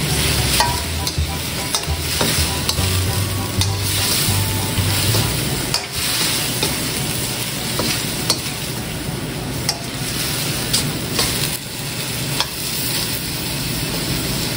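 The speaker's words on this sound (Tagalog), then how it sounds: "Haluin nyo lang mabuti mga lodi" Dinuguan with fish sauce is stirred in a pan, a continuous hissing fry broken by repeated utensil scrapes and clacks, close and fairly loud throughout.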